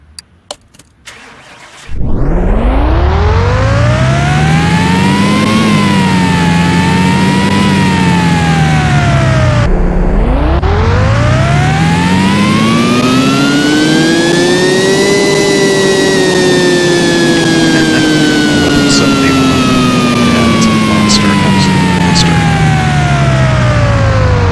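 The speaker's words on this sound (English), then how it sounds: "That fully upgraded V12 should be pretty powerful." A fully upgraded V12 engine of roughly 1,000 horsepower in Car Mechanic Simulator 2018 fires up and revs loudly through two long rising and falling sweeps, heard alone at close range.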